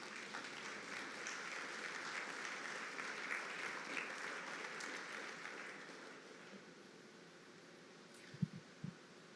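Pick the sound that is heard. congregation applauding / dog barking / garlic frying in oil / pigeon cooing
congregation applauding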